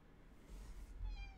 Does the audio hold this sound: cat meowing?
yes